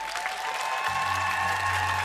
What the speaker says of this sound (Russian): Аплодисменты легендам.